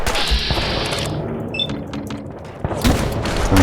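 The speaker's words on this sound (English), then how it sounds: "Who are you guys shooting at?" Gunfire in the video game Fallout 4, a burst of loud shots and booms followed by a quieter stretch and then further bursts of firing.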